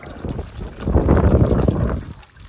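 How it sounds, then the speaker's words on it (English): A garden hose sprays water onto a ceramic-coated car wheel, giving a close, loud rushing hiss that swells and then eases off, with no talking. "So now let's test it out by spraying some water on the wheel"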